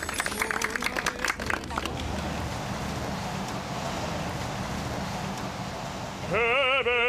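Audience applause and clapping for Korean opera singers at a small outdoor pop-up restaurant stage in Paris, a broad steady wash of many hands lasting several seconds, with a voice singing in at the end.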